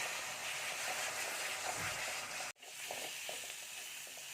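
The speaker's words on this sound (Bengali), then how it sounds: "তো পাউডারগুলোকে এখন মশলার সাথে খুব সুন্দর করে ভাজা ভাজা করব।" Garam masala and cumin powder frying with whole spices in a pan, a steady soft sizzle throughout with a brief break midway, no talking.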